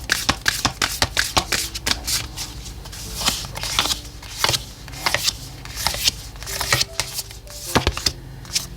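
Oracle cards being shuffled close up, with quick papery riffles and sharp snaps repeating in uneven bursts.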